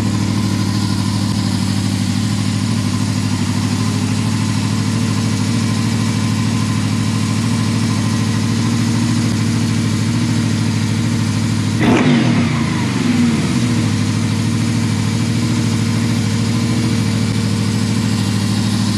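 A Honda VFR800 VTEC engine idles steadily during throttle body synchronization, a constant close hum with one brief bump in the rhythm partway through and no talking.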